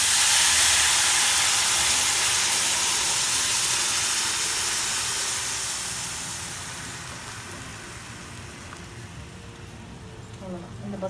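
Boiled ponnanganni basaru poured into hot tempering erupts into a loud, hissing sizzle that slowly fades and softens over several seconds, with small crackles near the end.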